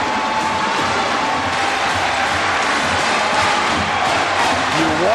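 A large arena crowd roars and cheers steadily at a 1996 UCLA versus Louisville college basketball game, a dense, loud wall of voices swelling slightly near the end.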